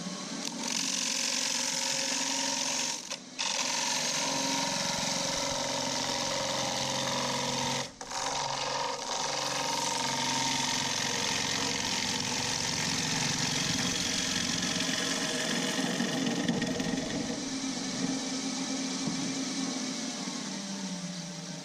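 A Thompson 1/2 inch bowl gouge cuts a punky maple bowl spinning on a lathe, giving a steady, loud, close whirring rasp that runs almost without a break, dipping briefly twice.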